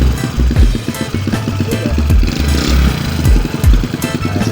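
A motorcycle fitted with a carburetor vacuum conversion kit revs loudly and continuously nearby, its engine note rising and falling in repeated throttle blips without pause.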